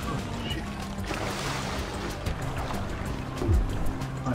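Jet ski skimming across open water in GTA 5, a steady rushing wash of spray and hull slap that swells near the end, with voices talking underneath.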